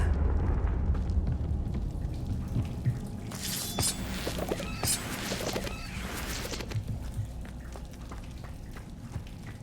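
The Confringo explosive spell cast in the video game Hogwarts Legacy, a burst of crackling, fizzing blasts in the middle that rises above a steady low ambient rumble before fading back down.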